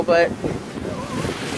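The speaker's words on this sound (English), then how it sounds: "The waves are crashing like crazy." Ocean surf surging below coastal cliffs, a loud roaring wash buffeted by heavy wind noise on the microphone, with a brief spoken word heard over it.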